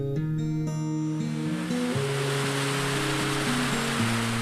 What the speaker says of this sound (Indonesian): Hujan mulai turun cukup deras.